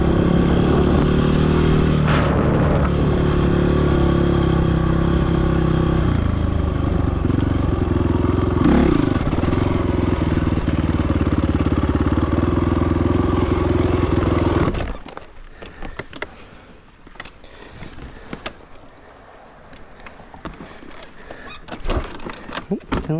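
A dirt bike engine runs loud and steady while riding off-road, with rising and falling revs and rattling clatter, then cuts to quieter scattered rustling and scraping in the last third.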